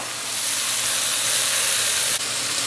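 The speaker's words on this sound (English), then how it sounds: "once the vegetables start to cook down, we're going to deglaze with a little bit of rum" A hot pan of beef stew vegetables deglazed with rum gives off a loud, steady hiss of steam that holds throughout, broken by one brief dip near the end.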